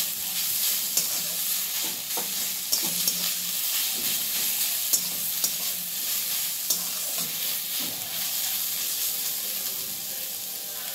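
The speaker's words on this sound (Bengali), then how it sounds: "শুধু জাস্ট তেলে একটু এপিট ওপিট করে নাড়াচাড়া করে নেব।" Grated coconut is stirred and lightly fried in oil in a pan, giving a steady soft sizzle with repeated scraping strokes of a spoon at an even rhythm, close and moderately loud with no voices.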